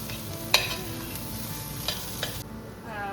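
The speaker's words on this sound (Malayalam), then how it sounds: "ഇത്രയും ചേർത്ത് അതിൻ്റെ പച്ചമണം മാറുന്നത് വരെ നന്നായിട്ട് വഴറ്റുക" Pork masala with red chilli powder and coriander powder sautéing in a pan, a steady soft sizzle with a few sharp scrapes of the spoon, no voices.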